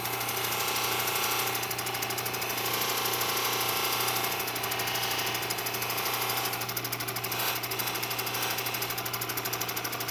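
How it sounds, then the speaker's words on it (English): A soft Nova wheel on a cabbing machine grinds a Montana agate cabochon under heavy pressure, a steady close motor hum with a continuous gritty whir and no breaks throughout. "this is a Nova wheel, so it's really soft, and I'm putting a lot of pressure on it right here."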